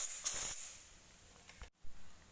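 A can of tyre sealant sprays briefly into a tubeless ATV tyre, giving a short, close hiss near the start, followed by quiet handling noises and a soft knock.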